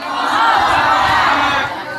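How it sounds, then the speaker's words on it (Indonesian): A large crowd shouts a takbir chant in unison at an Islamic sermon gathering in Tanah Baru, Bojong Gede, Bogor. The roar is loud and sustained for nearly two seconds, with many voices blending together before it eases slightly. "Itu mah takbir."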